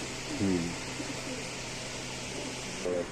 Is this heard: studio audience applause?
no